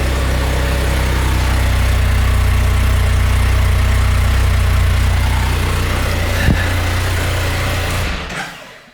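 A Can-Am Spyder RT idles close by on its stock muffler, giving a loud, even low rumble that holds steady for about eight seconds before fading out.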